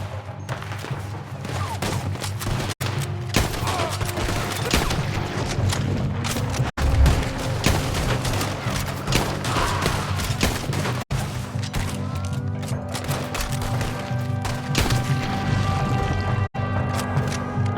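Gunfire in the video game Red Dead Redemption II during a Guarma civil-war battle between rebels and army, a dense fusillade of shots and booms with heavy thuds, sustained and loud throughout.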